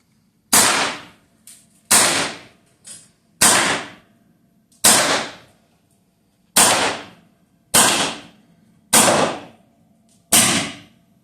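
A Viper X .22 air rifle fires eight sharp, loud shots spaced roughly a second or more apart, each a crisp crack that fades quickly, heard alone and up close.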